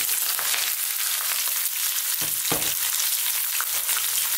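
Onion and curry leaves fry in oil over high heat for a lamb curry, a loud, dense, continuous sizzle close up, with a couple of brief stirring knocks midway.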